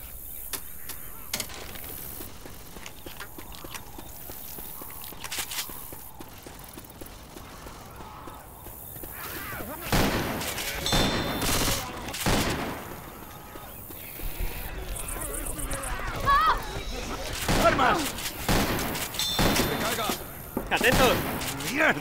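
Gunfire in the zombie shooter Left 4 Dead 2, sharp shots and bursts that grow denser and louder in the second half, mixed with game noise while players shout over it.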